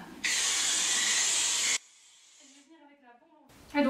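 An aerosol spray can lets out one loud, steady hiss of about a second and a half during dog desensitization to care, then a person talks quietly.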